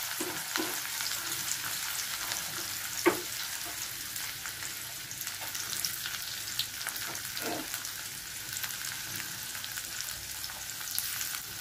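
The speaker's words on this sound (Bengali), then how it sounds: "পেঁয়াজটা একটু ভেজে নেব।" Chopped onion fries in a pan for an egg curry, a steady, fairly loud sizzle and crackle with occasional soft knocks from stirring and no voices.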